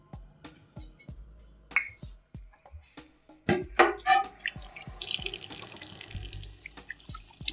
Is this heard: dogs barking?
no